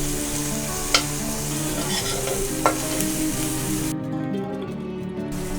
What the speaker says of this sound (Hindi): अदरक लहसुन को हमने 1 मिनट तक भूना है।